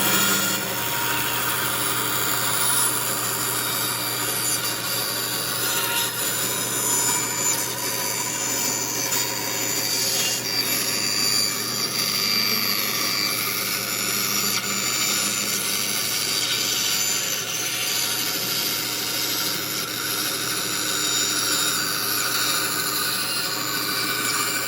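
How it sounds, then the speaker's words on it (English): A bandsaw cuts a curve out of a piece of wood with a steady, continuous whine and rasping hiss, close and unbroken throughout. "Now we can go all back and cut this curve right out."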